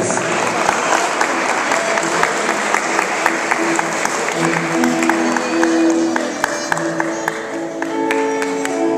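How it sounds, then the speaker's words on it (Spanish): An audience at a Hispanic Heritage Day costume showcase applauds a model in colonial dress, a loud sustained burst of clapping with a few cheers, while voices and music-like tones rise beneath it later. "despidamos con un fuerte aplauso a Sharon Díaz"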